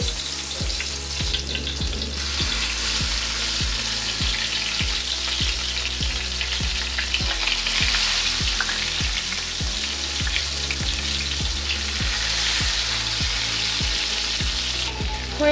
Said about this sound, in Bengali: তেলটা গরম হয়ে গেছে, বেগুনগুলো দিয়ে দিচ্ছি।